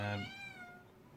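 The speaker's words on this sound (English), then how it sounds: "sorry about the cat noises." A domestic cat gives a single short meow indoors, close and fairly clear, with a harmonic cry fading over about a second and no talking.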